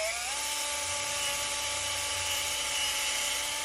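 A small power drill with a 2.5 millimeter bit whines steadily at high pitch, drilling nylon continuously and close by with no pauses.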